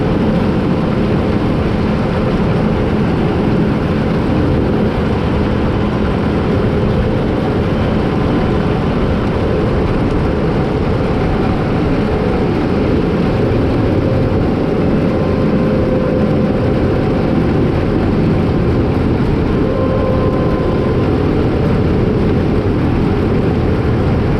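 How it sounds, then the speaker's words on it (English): A farm tractor hauls a partly filled grain cart that is too big for it, its engine a loud, constant low drone with rumbling noise that holds steady throughout, no talking. "That grain cart's too big for this tractor to be pulling it full."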